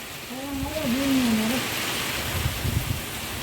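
Monsoon rain falls on a farm as a steady background wash while a voice calls out briefly over it near the start.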